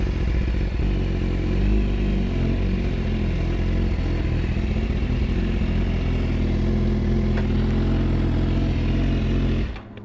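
A BMW S1000RR motorcycle engine with a full titanium Vandemon exhaust idles loud and close in a steady, rumbling drone, then cuts off abruptly at the end.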